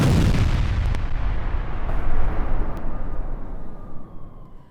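A bomb explodes in Gaza war footage, a large blast dropped on a tunnel area. It sounds as a loud, deep, rolling rumble that fills the whole stretch and slowly fades, with no voices.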